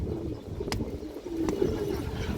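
A red Muslodom male pigeon gives soft, low cooing in a steady murmur, close by, with a couple of brief sharp clicks and no talk.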